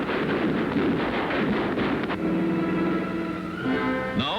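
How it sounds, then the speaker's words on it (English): World War II aircraft machine guns and cannon are test-fired before a 1942 flight, a dense loud rattle of rapid shots that gives way to a droning engine-like tone and a rising whine at the end. "Every machine gun and cannon is tested before the flight."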